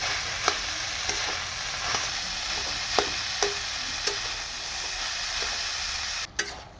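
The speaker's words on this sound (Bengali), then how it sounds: "ডুমুর আর আলুটা দিয়ে দিচ্ছি। এটা আমি খানিকক্ষণ রান্না করে নেবো" Figs and potatoes fry in a pan with a constant loud sizzle, while a utensil stirs them in sharp, evenly spaced scrapes and taps about every half second, ending in a brief pause and one last clatter.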